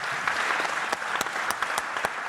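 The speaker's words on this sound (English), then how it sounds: "I ask from all of you a good round of applause for ETEXA" Applause from an audience at the RemTECH awards ceremony of a remittances summit, a steady dense wash of clapping with a few sharper individual claps standing out, continuous for the whole stretch and fairly close.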